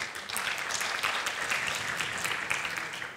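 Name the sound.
audience applause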